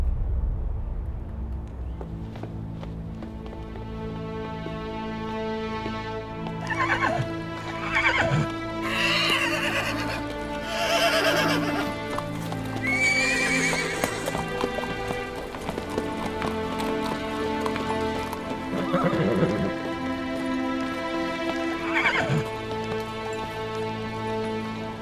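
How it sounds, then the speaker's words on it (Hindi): A mare neighs several times over a steady clip-clop of hooves, heard up close beneath a sustained musical score with repeated whinnies spread across the stretch. "बाला खातून, आपकी घोड़ी क्या हुआ लाजा को?"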